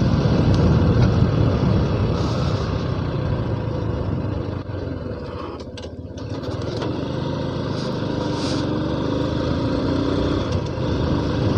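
A motorcycle engine runs steadily nearby, a continuous rumbling idle that dips briefly in loudness midway before returning, with faint background noise around it.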